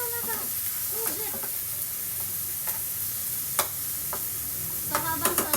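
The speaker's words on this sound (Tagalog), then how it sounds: "habang sa dyan, ginigisa-gisa sa bawang" Garlic sautéing in a pan, giving off a steady frying sizzle and hiss with scattered sharp clicks and scrapes from stirring, close and alone with no voices.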